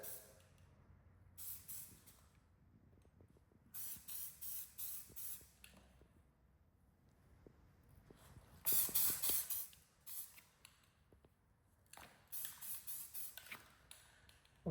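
Repeated bursts of an aerosol spray can hissing as dark green paint is sprayed onto a rifle, each lasting a second or two with short quiet gaps between, close and fairly loud.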